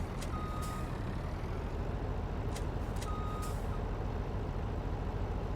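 A truck in Farming Simulator 19 backs up with a trailer unhitched, its reversing alarm giving several sharp, evenly spaced beeps over a steady engine hum, with a brief air-brake hiss, no talking.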